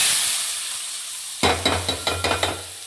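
Onion pieces drop into hot oil and start sizzling loudly, with a burst of crackling followed by a series of sharp spitting pops settling into a steady fry, no voices.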